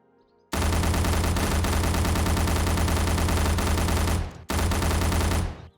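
Automatic 5.56 assault rifle fire from a 7 Days To Die weapons mod: a loud, close, sustained burst of rapid shots for about four seconds, a brief break, then another hard burst that trails off. No voices.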